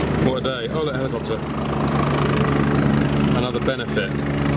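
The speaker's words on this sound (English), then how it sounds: "Oh, that helicopter." A helicopter's steady engine and rotor drone runs throughout at a racetrack paddock, with people talking over it.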